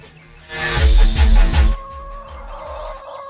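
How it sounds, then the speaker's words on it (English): Chickens cluck and squawk loudly nearby in a busy burst, then settle into quieter, scattered calls. "you can hear probably the real chickens in the background"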